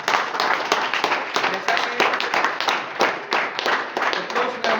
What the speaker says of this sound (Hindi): राम मुंडा जी के लिए एक बार जोरदार ताली हो जाए।